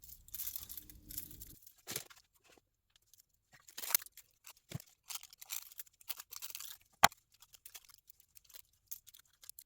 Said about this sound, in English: I'm just covering the whole back of the flower with this paper here.